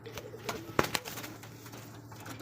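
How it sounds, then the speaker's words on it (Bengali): A male pigeon coos softly a couple of times, short low calls over quiet background hum, with faint voices nearby. "একটা কবুতর ডাকতেছে নর কবুতর"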